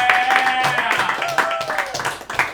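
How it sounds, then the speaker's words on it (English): An audience at a New York roast battle comedy show applauds a newcomer comedian. A dense burst of clapping, with a voice talking over it. "Now clap it up for the newcomer"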